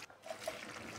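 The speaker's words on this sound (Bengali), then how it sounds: "তারপরে দিয়ে দিচ্ছি জল" Water poured into a pan of frying ridge gourd while cooking a spicy fish curry, a short steady trickle and splash close by with no voices.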